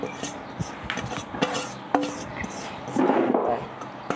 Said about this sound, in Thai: ตามด้วยหอมแดงค่อยๆโขก